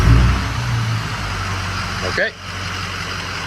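A rebuilt Ford 6.0 Powerstroke diesel engine rumbles steadily and close by, with a brief dip in its sound partway through. A voice speaks one short word over it.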